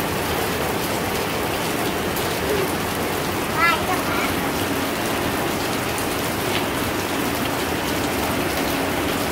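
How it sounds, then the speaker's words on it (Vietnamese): Heavy rain pours steadily outdoors, a dense, loud hiss of drops on surfaces that runs unbroken for the whole clip. "Giờ trời mưa sao lấy nước, mưa lớn quá trời luôn à."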